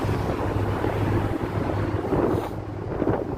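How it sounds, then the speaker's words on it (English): Strong wind buffets the microphone in constant low rumbling gusts on a Chicago lakeshore walk near the 400 North Lakeshore site, with faint water and boat sounds in the background and no talking. "Got some wind here."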